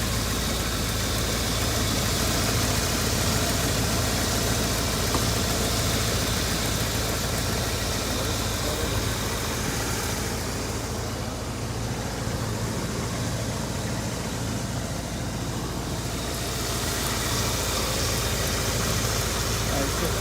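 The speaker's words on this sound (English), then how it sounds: "It's just idling beautifully." A 1979 Rolls-Royce Silver Shadow II V8 idles steadily with the bonnet up, a smooth continuous engine hum heard close and loud throughout, with no change in revs.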